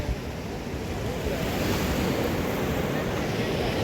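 Sea waves wash steadily onto a beach near Thiruchendur, a continuous broadband roar of surf with wind noise on the microphone and no talk.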